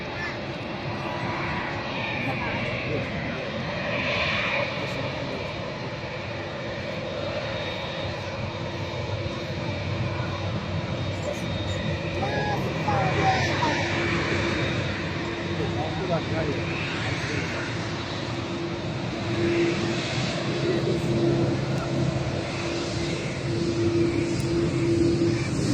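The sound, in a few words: China Southern Boeing 787 jet taxiing past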